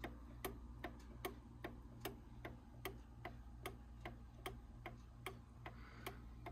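Quiet, steady ticking of a vintage Gilbert mechanical mantel clock, crisp evenly spaced ticks over a low background hum.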